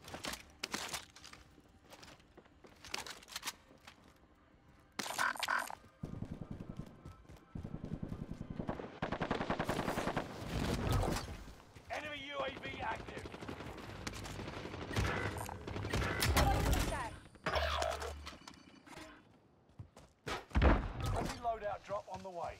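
Video game gunfire in a military-style shooter: bursts of shots and rapid fusillades come and go over about twenty seconds, mixed with footsteps, game voice announcements and other battle noise.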